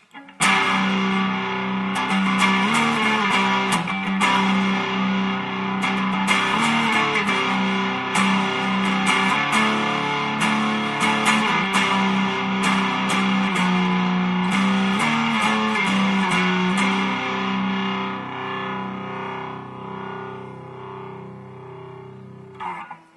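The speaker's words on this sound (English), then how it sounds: "Right now I have the overdrive completely maxed out, and we'll hear how that sounds." An electric guitar plays through a T-Rex Engineering Magnus multi-effects pedal with overdrive maxed out, heavy and saturated, thick and buzzing, with chords and riffs ringing steadily for the whole stretch.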